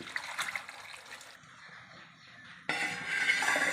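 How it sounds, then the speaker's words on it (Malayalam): Water pours into a pot of breadfruit curry seasoned with turmeric and salt, a soft trickle and splash that fades, then returns as a brighter, fuller stream near the microphone. "കുറച്ച് മഞ്ഞൾപ്പൊടി ഉപ്പ് വേകാൻ ആവശ്യമുള്ള വെള്ളം"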